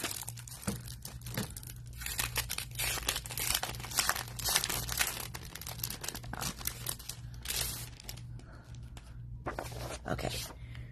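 Sheets of paper are handled at close range, with repeated crinkling, rustling and crumpling bursts running almost continuously over a low steady hum, thinning out briefly near the end.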